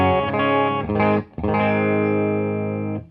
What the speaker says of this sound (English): I'm playing my standard Fender Telecaster through my Fender Deluxe Reverb.